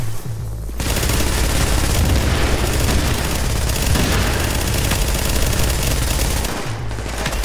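Dense, continuous video game combat with grenade explosions and rapid gunfire pounding loudly for several seconds without pause, trailing off briefly at the end.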